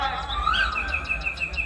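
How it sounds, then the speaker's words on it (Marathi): Birds chirp and twitter nearby among green trees, a quick repeating series of short high notes over a low steady background hum. "हा पक्ष्यांचा किलबिलाट"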